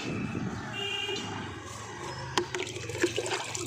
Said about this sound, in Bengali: সব গাছে একটু জলটা দিয়ে দিই